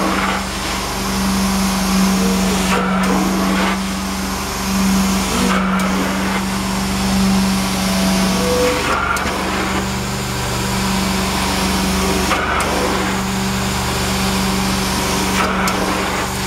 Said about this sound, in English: You can listen to the sound of the engine. It's running smooth because I'm not suffocating it.